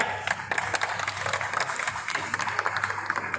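Applause from a theater audience at a stage comedy show during a festival, a steady patter of hand clapping at moderate distance with no voices over it.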